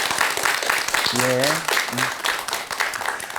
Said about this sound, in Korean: 박수 한 번만 다시 부탁드리겠습니다